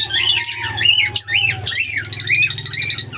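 Birds in a backyard aviary squawk and chatter close by in rapid, rising and falling harsh calls, several voices overlapping continuously over a low background hum.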